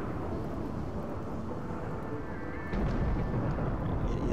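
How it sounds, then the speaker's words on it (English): Thunder from a dry thunderstorm in the video game RimWorld, a low continuous rumble that swells louder partway through, with no voices over it. "A dry thunderstorm, which is absolutely terrible, that can cause a lot of fires."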